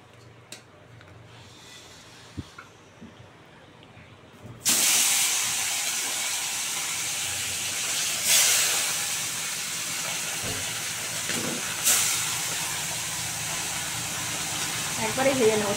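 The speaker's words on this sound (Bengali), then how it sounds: "তেল গরম হয়ে গেছে, আমার মাছটা দিয়ে দেবো।" Bata fish dropped into hot oil bursts into a loud, steady hiss and sizzle after a quiet start, with brief flares of spitting oil now and then.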